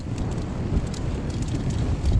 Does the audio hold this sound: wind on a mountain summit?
yes